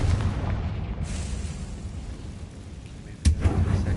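A Confringo blasting spell exploding in Hogwarts Legacy, with a sharp burst near the end rising over a steady background rumble of game sound.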